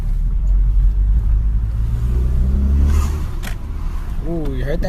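Unitronic cold air intake on a car, engine droning and rumbling steadily while driving, with a rising rev and intake whoosh near the end, loud and close throughout.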